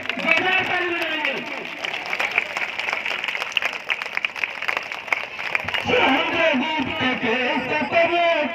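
A crowd at a Buddhist-rite mass wedding in Unnao claps together in sustained, dense applause that runs steadily throughout, with voices mixed in beneath it.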